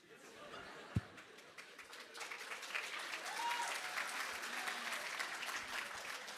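An audience at a school student council election debate breaks into applause, starting faint and swelling into a steady patter of many hands, with a sharp knock early on and some chuckles and murmuring mixed in.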